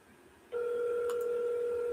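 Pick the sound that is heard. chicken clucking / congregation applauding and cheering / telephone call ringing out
telephone call ringing out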